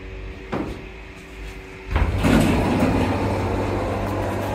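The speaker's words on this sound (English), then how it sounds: "Very loud doors opening." Old hydraulic glass lift doors at Sydney Fish Market in Pyrmont open with a loud clunk, then a sustained mechanical rumble and hum as they slide, following an earlier knock over a low machine drone.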